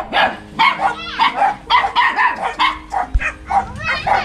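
Several dogs at a rural home in Vietnam barking and yipping in quick overlapping bursts, loud and close, with some whimpering mixed in and no talk.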